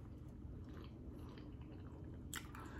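Close, wet chewing and mouth sounds while eating African peanut butter soup with fufu, soft squishy smacks over a low room hum, with no talking.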